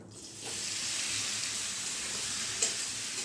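Boiled raw jackfruit fries in hot oil in a pan, giving a steady, close sizzle with soft hissing throughout and one small pop near the end.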